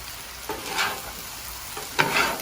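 Chicken and pork fried rice is stir-fried in a hot pan: a steady close sizzle with two swells of scraping and tossing as the rice is pushed around.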